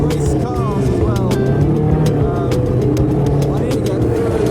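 Race cars at a Formula One celebration roar past in a steady loud rumble, with sharp repeated bursts of passing engines and rising whines over a noisy crowd, and people talk throughout.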